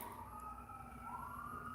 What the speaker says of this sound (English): Y'all hear them sirens?